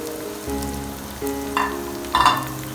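Onions frying in hot oil in a pan, a soft steady sizzle with a few louder stirring scrapes near the end, close and without talk.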